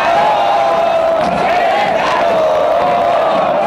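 Loud football crowd at the Estadio Corregidora in Querétaro, Gallos fans cheering and chanting in a sustained, dense roar with a steady sung tone running through it.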